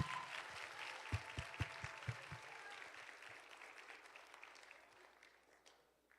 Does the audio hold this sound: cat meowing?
no